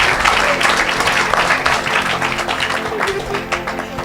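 A church crowd applauds and cheers for Jesus during an evangelistic worship gathering, loud sustained clapping mixed with shouting voices filling the whole stretch.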